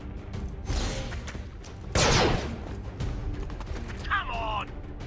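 A trick shot is fired in the tactical game XCOM 2. Two sharp gunshot bursts ring out, the second louder and harsher, followed by a brief whirring mechanical effect, with voices talking in between.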